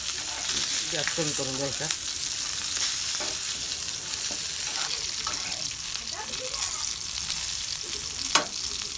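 Green chillies fry in hot oil in a pan covered with a bhakri, a steady close sizzle and spatter running throughout, with occasional stirring scrapes and a sharp pop near the end; a voice speaks briefly.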